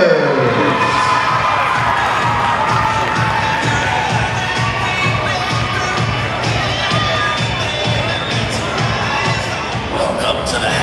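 Loud crowd at a cheerleading competition cheering and screaming without pause for a youth team, with children's shouts mixed in and an announcer's voice underneath.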